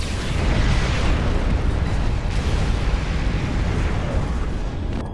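Starship weapons fire and the destruction of a rift in Star Trek Online roll out as a dense, sustained explosive roar, loud and unbroken for several seconds with no voices over it.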